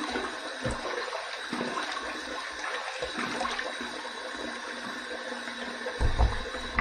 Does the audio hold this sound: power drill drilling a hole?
no